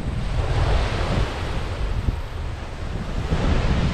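Waves wash steadily against the Lake Huron shore, a loud, continuous surf roar mixed with gusting wind buffeting the microphone, with no voices present.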